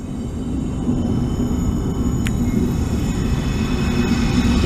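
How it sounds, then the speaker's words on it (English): A northbound coal train rumbles past steadily, a continuous heavy low-frequency roar of rolling freight cars with a faint high squeal at one moment, loud and close throughout. "Next up was a northbound coal train, probably out of Orlando's Stanton Power Plant."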